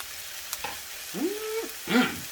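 Soy bean sprouts sauté in a hot pot with a low, steady hiss, broken by a couple of short tonal squeals and soft knocks near the end.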